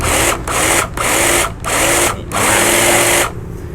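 A cordless battery chainsaw revs its spinning chain in four high-pitched whining bursts separated by short pauses, loud and close, with no talking.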